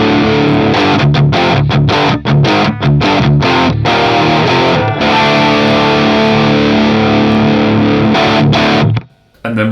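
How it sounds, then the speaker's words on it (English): Gibson SG with humbuckers played through the OD2 overdrive channel of a Marshall Valvestate amp, a loud, driven riff of choppy chord stabs and sustained distorted chords lasting several seconds before cutting to near silence at the end. "So the SG into OD2 on the valve state sounds something like this."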